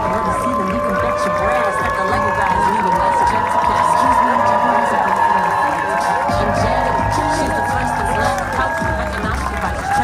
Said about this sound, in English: you have all these Democrats on the steps that are clapping like seals.